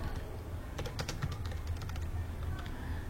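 A quick burst of keystrokes on a computer keyboard while text is entered into a design program, close and clear, with no voices.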